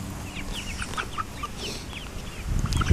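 Chicks and chickens clucking and peeping close by, several overlapping bird calls over a rustling, shuffling background that grows louder at the end, with no talking.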